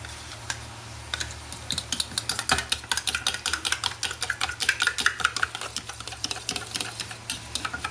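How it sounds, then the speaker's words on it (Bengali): Yogurt being beaten smooth in a bowl in a village kitchen, heard as a quick, steady run of light scraping and tapping strokes that speeds up and grows denser over several seconds, close by, with no talking. "আমি দইটাকে এখন ফাটাবো"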